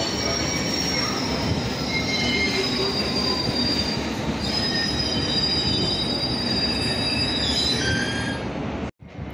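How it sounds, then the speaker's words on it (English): A London Underground District line train to Ealing Broadway rumbles loudly into Barking station, its wheels squealing in long, high metallic tones throughout, ending in a sharp thud. "We have a district line train to Ealing Broadway arriving"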